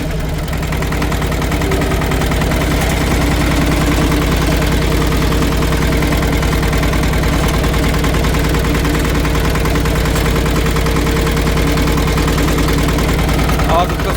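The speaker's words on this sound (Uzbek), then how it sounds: "Ana endi traktorni bitta yuritib ko'rsatib beramiz." A mini tractor engine runs at a steady idle, a loud, even mechanical chug with constant vibration throughout and no pauses.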